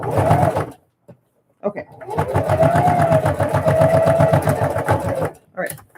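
A sewing machine stitches a fabric Christmas bucket with a fast, rhythmic mechanical whir in two runs, a short burst then a longer sustained stretch. A person speaks briefly between them.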